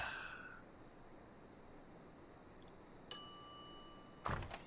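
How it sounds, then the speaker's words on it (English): A shop counter bell in the Secret of Monkey Island video game rings once with a clear metallic ding that trembles as it fades. A dull thunk follows shortly after, over a quiet background. "some idiot's already ringing that stupid bell"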